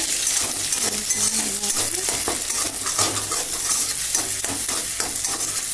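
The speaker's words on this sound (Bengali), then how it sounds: "ডিমটা দিয়ে একটু ভাজা ভাজা করে নেব" An egg fries in a blackened wok (kadai) with a steady loud sizzle, and a spatula scrapes and stirs it continually and close by.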